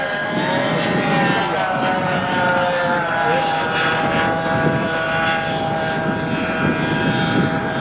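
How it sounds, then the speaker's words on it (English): A model jet aircraft coming in to land at a jet rally in turbulent wind, its turbine a steady, loud whine with wavering pitch that holds throughout over a background of outdoor noise. "You notice as he got nearer to the ground, the aircraft tossed around a little bit."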